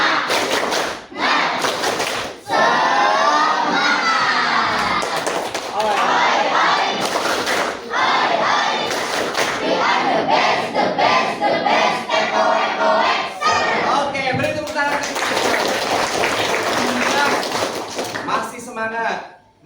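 Students in an Indonesian high school classroom perform the tepuk semangat spirit chant, rhythmic group claps with sharp thumps interleaved with loud shouted voices, energetic and close, running for about twenty seconds.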